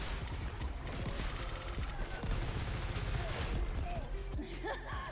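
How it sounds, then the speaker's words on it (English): A barrage of missiles fired in the video game Crackdown 3, heard as rapid overlapping blasts and crackling explosions layered with game effects and a voice, continuous and dense throughout. "How about a bunch of missiles instead?"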